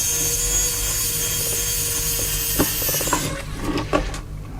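Long screws being worked loose from the case of an Oyster 8 Pocket RS232 terminal, with steady scraping and ratcheting tool noise and a few sharp clicks near the end, up close under a constant background hiss.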